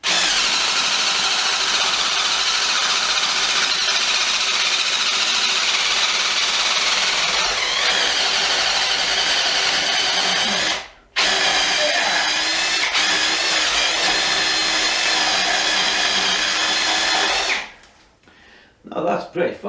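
A RIDGID AEG BSS180P brushless hydraulic oil-pulse impact driver runs in long steady bursts, a dense broadband whir with a brief cutout near the middle and a stop before the end, loud and close.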